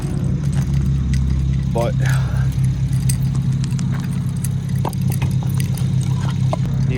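A BMW 335i after a cold start idles with a steady mid-pitched engine hum, close and continuous, while someone talks over it and brief clatter sounds.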